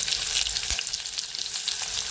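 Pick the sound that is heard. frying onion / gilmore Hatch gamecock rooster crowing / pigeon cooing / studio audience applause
frying onion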